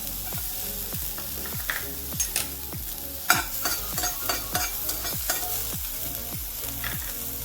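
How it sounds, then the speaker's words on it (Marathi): Ginger roasts in a pan under a soft continuous sizzle while a spatula stirs it in steady, regular strokes, roughly one scrape every half second, close and alone without speech. "आता मी आलं भाजून घेते।"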